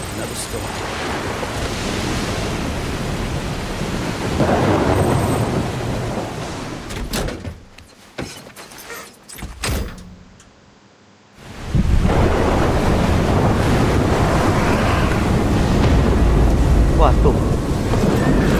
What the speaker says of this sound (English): Another storm.